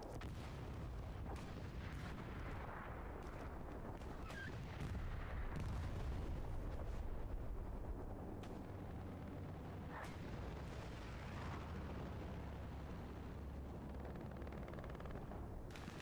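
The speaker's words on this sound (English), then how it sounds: "Got a AT gun right here on the corner of the map." An anti-tank gun fires in a World War II-style video game amid dense, continuous battle noise, with heavy booms and rumbling blasts layered over steady combat din throughout.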